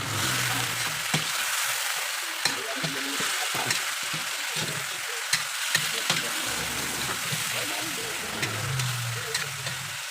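Chicken frying and being stirred in a pan for Filipino adobo: a loud, continuous sizzle punctuated by repeated sharp scraping clinks of the spatula, close up, with no talk.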